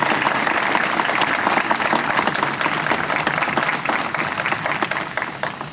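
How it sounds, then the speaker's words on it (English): Sustained audience applause at a Veterans Day program, dense clapping from a crowd that stays loud and steady throughout before easing slightly near the end. "Let's have a round of applause for them"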